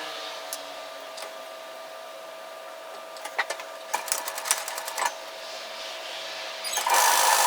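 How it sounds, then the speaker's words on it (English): A sewing machine stitches a 1 cm seam on a floaty top: sparse mechanical clicks at first, then a rapid rattling burst of stitching in the middle, and a steady whirring run at the end over a quiet electrical hum. "So we are going to sew a seam at 1 centimetre, 3/8 of an inch from the top"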